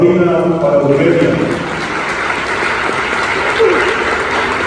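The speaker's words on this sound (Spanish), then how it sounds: "fuerte aplauso" An audience in a salon applauds two performing sisters, a steady wash of clapping that starts under a voice speaking over it and carries on to the end.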